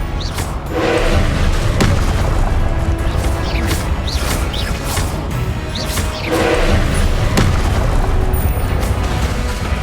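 An Incendio fire spell in Hogwarts Legacy bursts out amid loud, continuous combat rumble, with heavy thuds and booming impacts repeating throughout.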